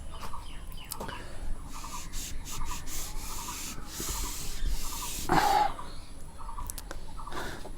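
A duster or cloth rubs chalk lines off a classroom board in a mathematics lesson, a close, steady scrubbing and swishing that runs through most of the stretch in repeated strokes, with no talk.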